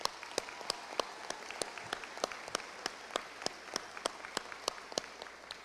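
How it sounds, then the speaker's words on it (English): Applause for the band and its director at a high school graduation ceremony: a steady wash of clapping from a crowd, with sharp individual claps standing out regularly above it, sustained throughout. "So let's give Mr. Alexander and the band another round of applause."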